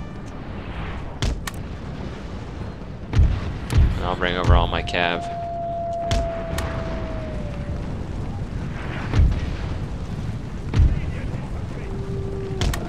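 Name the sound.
gunfire and artillery in Empire Total War video game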